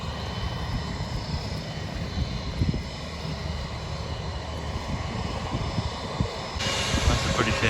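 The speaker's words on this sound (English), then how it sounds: "That's the British Airways, looks like a 757. It's making his turn." A British Airways Boeing 757 with Rolls-Royce engines taxis at the airport near Kanoni, Corfu, giving a steady distant jet whine and rumble that grows louder toward the end, with outdoor background noise.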